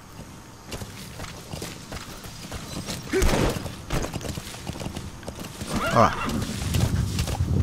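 A horse in Metal Gear Solid V clip-clops along at a quick pace, hooves thudding in a steady rhythm and a whinny rising midway, with a brief spoken word early on.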